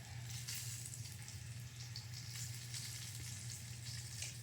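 Fat on a pork chop searing in a skillet, producing a steady, fairly quiet crackling sizzle that holds level throughout with no talk.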